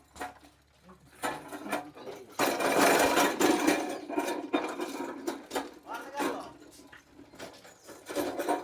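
Small power weeder machine working between rows of a chrysanthemum flower field, its engine chattering unevenly with rising and falling bursts of rattling as it churns weeds, fairly close and continuous.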